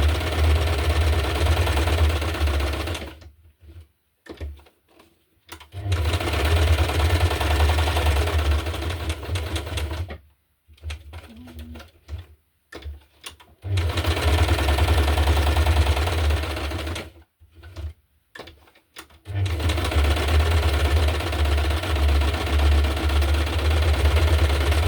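A sewing machine stitches paper junk journal cards in three long, steady whirring runs separated by quiet pauses with brief back-and-forth bursts, close and mechanical with no speech.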